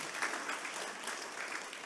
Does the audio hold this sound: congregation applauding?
yes